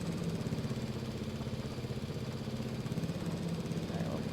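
A riding lawn mower tractor engine running, a faint, steady mid-pitched drone with even vibration throughout and no voices.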